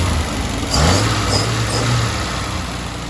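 A 1950 Dodge Power Wagon engine idles after an exhaust repair, a loud close low rumble that rises briefly in a light rev near the start and then settles back to an even idle, with no talk.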